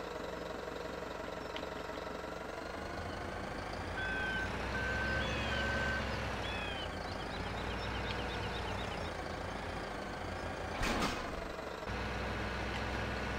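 Reversing beeps from a telehandler in Farming Simulator 2017 pulse in a steady on-off rhythm over the low, continuous rumble of its idling diesel engine, with a brief louder clunk near the end.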